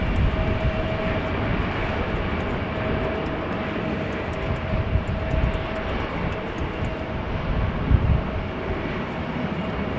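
A Turkish Airlines Airbus A319 jet runs its engines at wet, windy Amsterdam Schiphol, a steady broadband roar with a faint whine, held at a constant level without talk.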